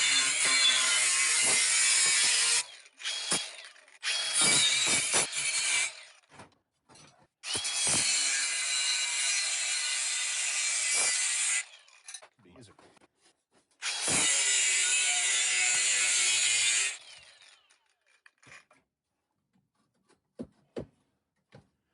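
Metal wings being trimmed off an S-10 truck chassis with a power tool: several long, harsh grinding or cutting bursts separated by short pauses and light clanks, fairly close, no talking.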